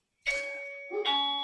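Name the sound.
doorbell ringing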